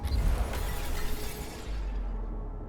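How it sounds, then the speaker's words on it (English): A crystalline formation shatters in the video game IXION, a loud burst of breaking and crackling with deep rumble that trails off into a low, sustained hum. "That shattering sound was very intense."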